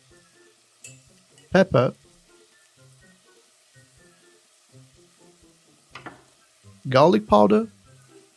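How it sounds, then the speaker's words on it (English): Tomatoes, onions and spices such as pepper and garlic powder fry in a pan with a soft, steady sizzle, while a person speaks briefly over it. "Cook everything until the tomatoes soften quite a bit"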